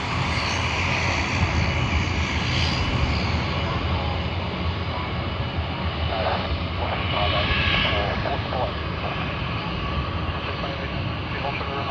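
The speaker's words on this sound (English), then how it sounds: "we have QF7 Sydney to Dallas Fort Worth on the A380 of Qantas, lining up on runway 34L" A Qantas Airbus A380 jet rumbles on runway 34L at Sydney Airport, a broad steady engine roar heard from a distance with a faint tonal whine rising partway through.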